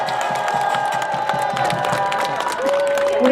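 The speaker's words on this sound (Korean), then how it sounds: "다시 한번 뜨거운 박수 부탁드리겠습니다." A large crowd at a presidential campaign rally in Gongju, South Korea, claps and cheers steadily, with whoops and shouts rising over rhythmic applause throughout.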